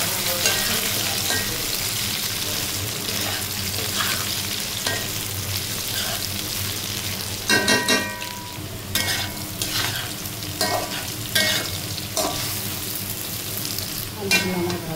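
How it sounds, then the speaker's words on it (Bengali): Potatoes frying and being stirred in a pan for a Bengali small puti fish curry with tomato and peas, with a steady close sizzle and repeated scraping stirs, some louder clatters from the spatula against the pan. "আলুগুলো আমার ভাজা হয়ে গেছে,"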